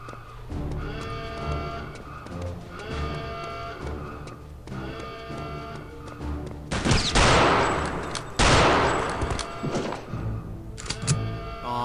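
Gunfire in the video game Return to Castle Wolfenstein, heard first as rapid repeated automatic bursts, then two loud, sharp blasts in the middle, with more shots trailing off at the end.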